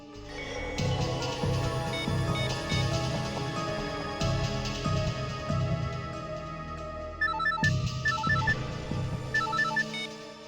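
A mobile phone found switched off in a crime-drama scene is powered on, giving a startup chime and ringtone-like melodic tones over a steady background music bed, fairly loud and continuous.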